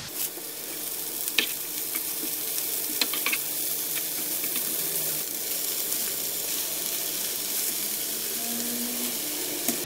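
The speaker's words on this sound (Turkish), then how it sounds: "Soğanlarımızı birkaç dakika kavuralım." Onions and spinach sautéing in hot oil in a pan, a continuous soft sizzle with occasional clinks and scrapes of a utensil stirring, moderately close and without any voice.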